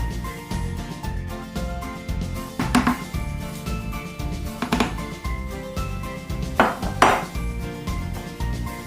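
Flour is stirred together with beaten eggs and ghee in a wide bowl, making rhythmic scraping and clinking of a utensil against the dish, with a few sharper knocks, close and moderately loud, with no talking.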